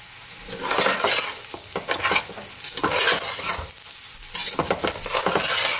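Chicken pulao (morog pulao) is stirred vigorously in a pan, with repeated scraping strokes of a spatula over a bright, continuous sizzle of frying.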